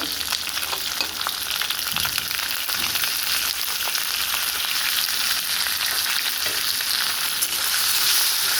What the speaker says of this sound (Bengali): নুন আর হলুদ দিয়ে এটাকে ভেজে নিচ্ছি